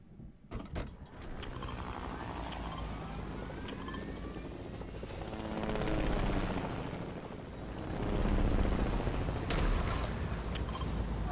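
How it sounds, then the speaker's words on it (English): Helicopter in the video game Fortnite, a continuous whirring, chopping drone that swells louder twice as it passes nearby, under a few brief clicks and clatters near the start. "there's a helicopter down there"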